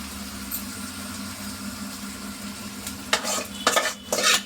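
Fish pieces in a tomato curry stirred in a pan, a steady low simmering sizzle followed by several sharp scraping and clinking strokes of a spoon against the pot near the end.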